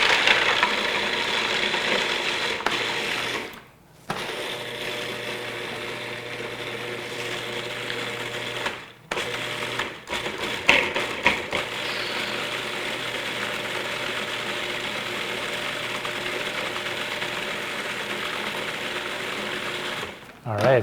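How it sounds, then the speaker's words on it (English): A blender grinds pesto in a steady, loud whir, pausing briefly twice and stuttering in short pulses midway before running on continuously. "let's grind this up"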